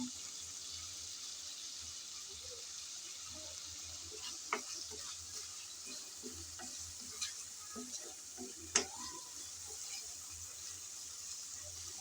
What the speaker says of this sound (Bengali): এখন নেড়ে চেড়ে ভালোভাবে কষিয়ে নিতে হবে, যাতে টমেটোটা ভালোভাবে সিদ্ধ হয়ে আসে।